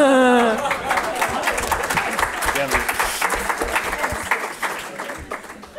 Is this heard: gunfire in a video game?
no